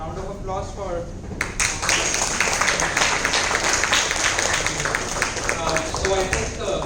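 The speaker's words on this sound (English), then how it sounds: "a round of applause for." Applause from a seated audience at a business plan writing and funding workshop, a dense burst of clapping that starts abruptly and carries on steadily, with a voice speaking at the very start and briefly near the end.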